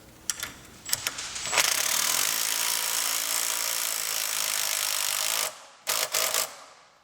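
A power drill whirs steadily for several seconds after a few short clicks and taps, then stops, followed by brief bursts of driving a screw into metal to ground an amplifier.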